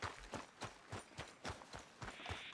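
Horse hooves clip-clopping in the video game Red Dead Redemption 2, a close, regular series of distinct hoof strikes at a brisk walking pace, heard on their own without talk.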